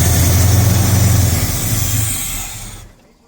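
A classic Chevrolet C10 truck engine idles with a steady low rumble, loud and close, then the engine note fades away near the end.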